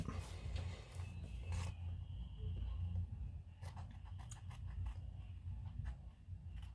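Small scissors snip around the outline of a paper cutout in a quiet room, making faint, close, crisp cuts in short clusters.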